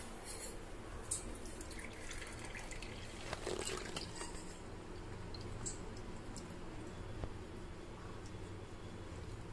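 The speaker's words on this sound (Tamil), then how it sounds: "இப்போ இத ஃபில்டர் பண்ணிரலாம்" Rose tea made from rose petals pours through a strainer, a soft trickling and dripping of liquid with a few brighter splashes, close and fairly quiet with no talking.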